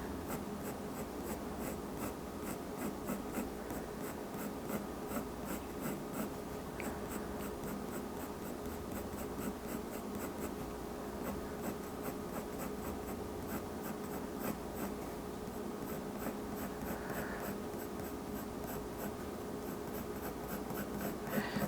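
A colored pencil scratches steadily across paper while shading a realistic cat's fur, a soft, close, continuous rasp of short strokes heard alone and quite faint.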